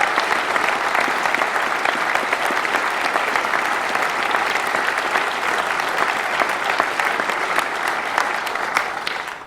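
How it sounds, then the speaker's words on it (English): Sustained applause from a large audience at a university graduation ceremony, steady and full throughout, easing slightly at the very end. "I think you deserve another round of applause to yourself."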